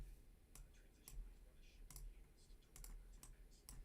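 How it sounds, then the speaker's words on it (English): Computer mouse and keyboard clicks sound at a desk during live stock trading, sharp irregular taps in quick bursts, close and fairly quiet, with faint talk in the background. "I'm already tired of clicking."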